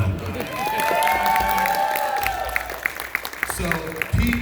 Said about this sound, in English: Everybody give him a huge round of applause.